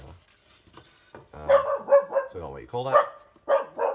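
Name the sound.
dog barking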